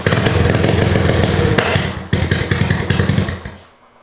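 A Honda Fourtrax 200SX quad, started cold at around 20 degrees, runs with a loud, uneven, sputtering engine note for about three seconds, then stumbles and fades out.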